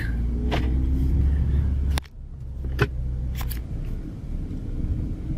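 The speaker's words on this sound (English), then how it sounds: "I'm going to take a little cruise and show you how it looks when I'm actually moving" A car cruising down a city block, with a steady close road rumble and engine drone, a brief dip midway and a few faint clicks, no talking.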